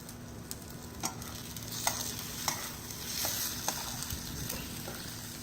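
Eggs frying in a pan over a smoky outdoor stove fed with paper, a low steady sizzle broken by a few light clicks and scrapes of a utensil, with no talking.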